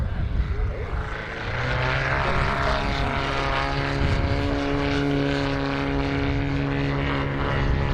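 A model propeller plane drones steadily at an air show with a buzzing, wavering engine tone, fairly close, while someone talks over it.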